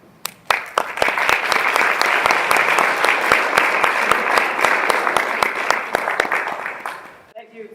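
Audience applause welcoming a speaker onto the stage at a talk on building resiliency from trauma: steady, dense clapping that swells quickly, holds for several seconds, then thins and fades out.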